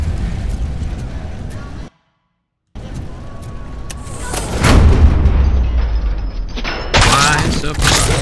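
Gunfire from a gun in the Robocop video game, loud sustained bursts of shots and heavy impacts with a brief silent gap, dense and close, with speech at times underneath.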